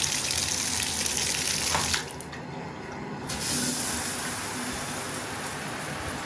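Water running from a repaired Delta RP5834 bathtub spout, a steady close hiss of flowing water that briefly drops as the valve is adjusted and then settles into a softer continuous stream.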